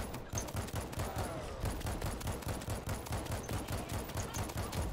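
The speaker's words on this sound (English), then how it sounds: "I'm shooting him all up in his back." Rapid bursts of gunfire in the zombie shooter World War Z, a dense, steady stream of shots running without pause for the whole stretch, loud and close.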